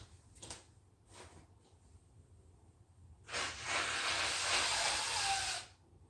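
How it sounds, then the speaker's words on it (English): A person blows their nose once, a short, close, forceful nasal blast lasting a couple of seconds, preceded by a few faint sniffs in an otherwise quiet room. "I gotta blow my nose."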